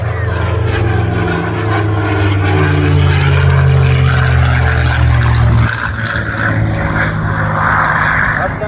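A P-51 Mustang propeller fighter flies past at an air show, its droning engine loud and sustained, rising and falling in pitch, with an announcer talking over it.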